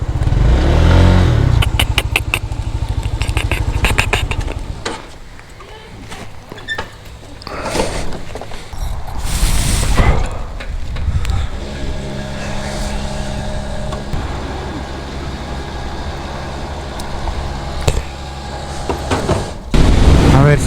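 Honda scooter engine fitted with a Malossi variator while riding, a loud droning buzz that rises and falls with throttle, with wind noise and a voice talking over it at times.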